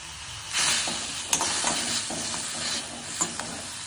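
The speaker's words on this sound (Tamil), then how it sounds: "அடுப்பை சிம்ல வச்சு வதக்கலாம்." A clove of garlic with washed thuthuvalai leaves sautéing in a pan on a low stove flame, giving a steady soft sizzle and hiss broken by a few stirring scrapes, close and without talk.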